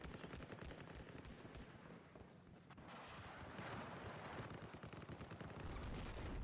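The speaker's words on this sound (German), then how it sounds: "Überall wird geschossen." Rapid bursts of automatic gunfire and scattered shots crackle through a Battlefield 4 match on Xbox 360 at the Lancang Dam map, dense and sustained with distant explosions mixed in, no voices over it.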